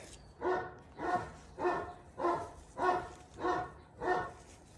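A dog barks seven times in an even, steady rhythm, each bark short and moderately loud, with quiet gaps between.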